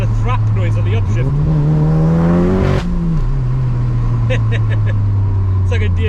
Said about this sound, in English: You get that kind of thrap noise on the upshift.